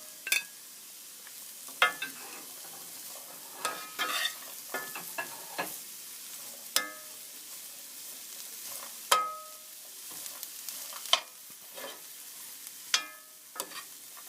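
Carrots and celery sauteing in a pan for lo mein, giving a soft, steady sizzle broken by scattered clinks and scrapes of stirring, with no talking.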